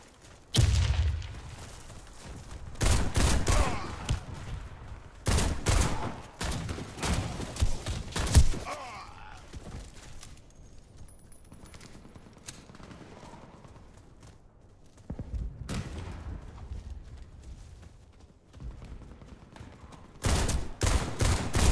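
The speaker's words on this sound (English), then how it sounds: "The sniper's trying to shoot me" Gunfire in a multiplayer shooter video game: clusters of sharp shots and bursts returning every few seconds, separated by quieter stretches, moderately loud with no voices heard.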